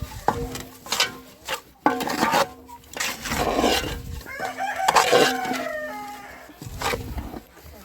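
Chickens cluck and squawk nearby in irregular bursts, with a rooster crowing amid the noisy flock.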